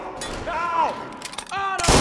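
Gunfire in the Mafia video game, a couple of sharp broadband shots near the end after a stretch of game dialogue and music, loud and close.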